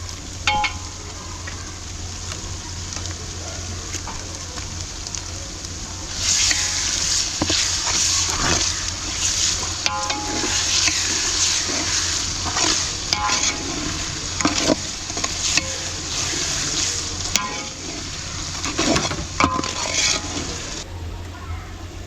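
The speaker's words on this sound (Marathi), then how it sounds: "थोडं आलं लसूण पेस्ट आहे ना ती घेऊया जरा परतून" Ginger garlic paste sautéing with softened onion for a spicy chicken liver masala makes a loud, continuous sizzle that swells partway through, broken by repeated scraping and clanking as a ladle stirs the pan.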